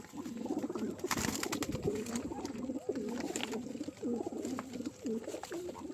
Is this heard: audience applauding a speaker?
no